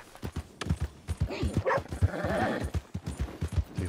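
Horse hooves clip-clopping in Red Dead Redemption 2, a quick run of close, rhythmic hoof thuds under a voice.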